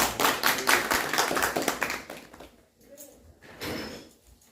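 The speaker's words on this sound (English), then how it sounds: "Give you a round of applause." A round of applause from a small audience at a talk on religion, a burst of clapping that fades after about two seconds, followed by scattered claps and quiet room noise.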